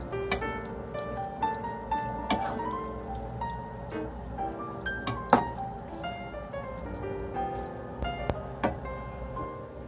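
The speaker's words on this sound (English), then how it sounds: "Give it a good stir around." Thick tomato and basil pasta sauce with kidney beans being stirred in a cooking pot, giving soft wet squelches and scattered utensil clinks against the pot over several seconds, with no talking.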